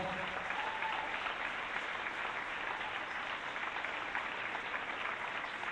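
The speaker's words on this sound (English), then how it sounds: "the seniors getting a nice round of applause" Crowd in a school gym applauding the senior players at a varsity girls basketball game, a steady round of clapping at moderate distance that holds even for several seconds.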